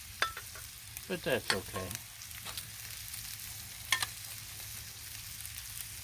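Potatoes sizzle on a Blackstone flat-top griddle as they are smashed with a cast iron press, bursts of scraping and spitting crackle over a steady low frying hiss, with a brief spoken comment partway through.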